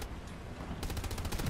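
Rapid automatic machine-gun fire in the World War II shooter Hell Let Loose bursts in partway through, loud and close, over constant battlefield background noise.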